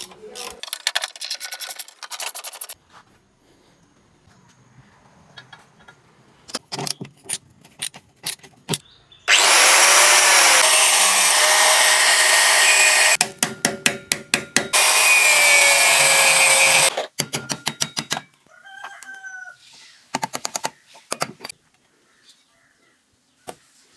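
Cutting through a seized nut on a vehicle seat mounting plate with a power tool, two loud sustained grinding bursts of several seconds each, separated and surrounded by sharp metallic clanks and taps.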